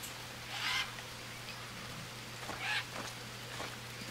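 Birds in the Green Hell jungle survival game call in two short bursts over a low steady hum and ambient background, fairly quiet.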